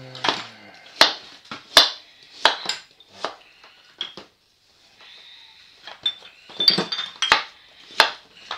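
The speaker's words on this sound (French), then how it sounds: "nous allons couper des morceaux" A knife cuts fruit into pieces for a tropical-style rum fruit salad, giving irregular sharp clacks and clinks against a board and dish, close up with short gaps and no talk.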